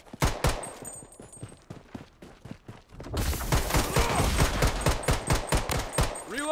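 Gunfire in the mobile shooter Call of Duty Mobile or Blood Strike: rapid bursts of automatic shots, sparse and crisp at first, then a denser, louder stretch of sustained firing that runs to the end.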